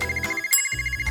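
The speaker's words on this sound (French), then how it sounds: "Est-ce que c'est un téléphone?" A telephone rings in a Barbie and Ken kitchen setting, a loud close electronic trill in two quick bursts separated by a short pause, with no voices over it.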